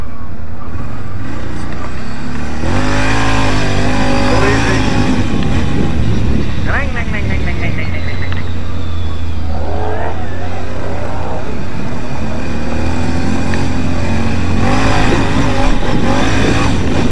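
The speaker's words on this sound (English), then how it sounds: "bike coming" On an ATV trail in Ganaraska Forest, a dirt bike engine rises and passes close by over a steady low idling motor, its revs climbing and falling, while people talk loudly over it.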